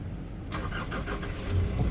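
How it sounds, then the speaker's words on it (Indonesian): Nissan Terra facelift engine starting from the push button: a brief starter crank catches into a smooth, steady idle, close and fairly loud. "tinggal kita injek rem dan tekan start stop engine button di sebelah kiri sini untuk nyalakan mesinnya"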